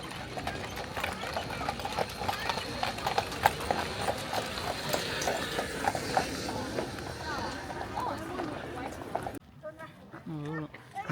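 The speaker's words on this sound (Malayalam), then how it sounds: "അത് കുതിര വരുന്ന പോലെ. ഇവിടെ എന്താ പറയുക, കുതിരയ്ക്കൊക്കെ സ്റ്റെറോയിഡ് കൊടുത്ത പോലെയാണ്." Large horses clip-clop steadily near Neuschwanstein Castle, their hooves striking a hard path in an even, rhythmic trot with a low engine hum behind. People chat nearby, and the hoofbeats drop away at the end.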